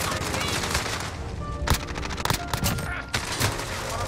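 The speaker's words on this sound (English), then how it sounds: "I was getting shot in my back too" Rapid gunfire and sharp shot bursts from an MP5 in the Modern Warfare video game, dense and loud throughout with overlapping volleys over game noise.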